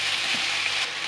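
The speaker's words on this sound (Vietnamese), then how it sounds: "Mình xào cho đến khi cái gà này nó săn lại để cho nó ngấm gia vị." Chicken stir-frying over very high heat for Mì Quảng gives a loud, steady sizzle and crackle close up, with no voices.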